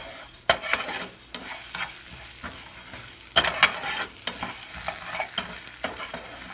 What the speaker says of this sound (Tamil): இப்போ நம்ம எடுத்து வச்சுருக்கக்கூடிய தேங்காய், மல்லி, ஜீரகம் இந்த எல்லாத்தையும் நம்ம ட்ரை ரோஸ்ட் பண்ணிக்கலாம்.